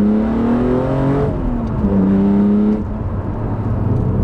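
A BMW Z4 M Coupe engine pulls hard while driving, its note climbing steadily and dropping at two quick upshifts. The sound is loud and continuous, with no talking.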